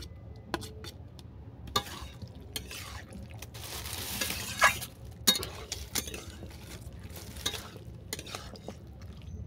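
Chicken and jackfruit seeds sautéed together in a pan, with a spatula scraping and clinking against the metal in irregular strokes over a low, steady frying hiss. No voices.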